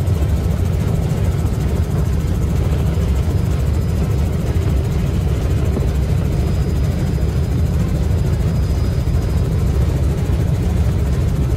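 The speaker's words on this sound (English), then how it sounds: "Helicopters typically stick lower to the ground." Continuous loud, steady rotor and engine drone of a tour helicopter in flight over Branson, heard from inside the cabin without pause.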